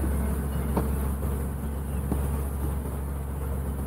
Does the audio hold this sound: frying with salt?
no